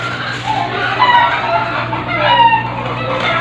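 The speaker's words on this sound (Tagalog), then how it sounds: "Ang ingay ng mga manok." Chickens clucking and a rooster crowing close by in a yard, a steady busy chatter of fowl calls with a continuous low hum underneath.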